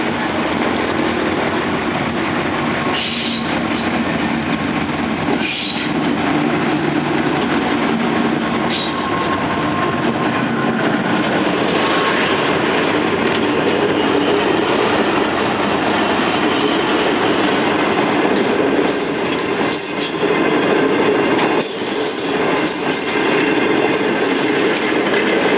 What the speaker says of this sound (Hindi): AG30 लीड कर रहा है ब्लू वाइट मिलत एक्सप्रेस को